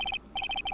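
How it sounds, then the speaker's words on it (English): An electronic cell phone rings in the Ace Attorney: Trials and Tribulations video game. Three quick beeping tones sound, then a short pause and a longer run of about six more, clear and close with no talking. "Your cell phone's ringing!"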